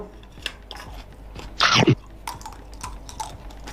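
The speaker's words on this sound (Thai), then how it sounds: "กินหินกันครับ" Close crunchy chewing and biting during a mukbang of Chinese chili stir-fried stones, one loud burst of crunching set against quiet mouth noises and faint ticks.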